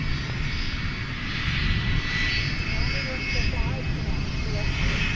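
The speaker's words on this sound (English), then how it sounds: "We got a 757 over there about ready to pull out from UPS." A UPS Boeing 757 jet rumbles and whines at night at an airport, a steady engine drone from some distance, with voices talking over it.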